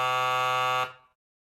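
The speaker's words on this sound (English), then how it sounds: "my studio buzzer rang" A studio door buzzer in an old factory building in Waltham sounds one steady harsh electric buzz for under a second, then cuts off abruptly into silence.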